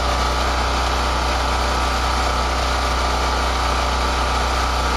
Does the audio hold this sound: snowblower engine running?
yes